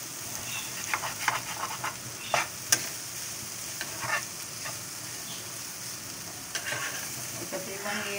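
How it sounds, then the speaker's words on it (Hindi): An egg frying in a pan and being flipped, a steady soft sizzle with scattered scraping and tapping of the spatula against the pan. "पलट देते हैं अंडे की तह को।"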